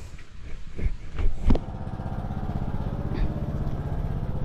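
A small engine-driven water pump drones steadily in a steady low hum as it fills drums with water, after a few knocks and thumps at the start.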